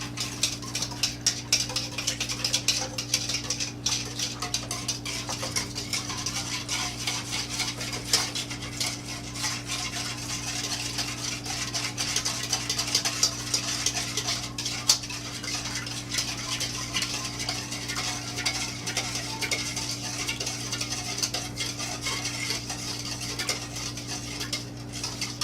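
Sugar and oil being whisked together for catfish dough bait, a continuous quiet clinking and scraping of a whisk against a bowl with no talking.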